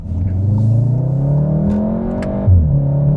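A VW Golf R Mk 8.5 with a wet dual-clutch gearbox accelerates hard, its engine note climbing steadily in a loud, smooth rising drone with a quick shift dip near the end.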